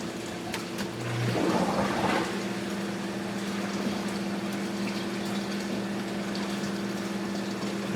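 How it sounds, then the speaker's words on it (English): A reef tank return pump runs with a steady low hum and a faint even trickle of water, beginning with a brief burst of gushing as it starts and then settling into a constant quiet drone. "That's a pretty quiet pump, huh?"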